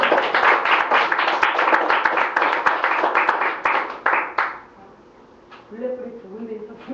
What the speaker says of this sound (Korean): 박수 쳐도 되나요?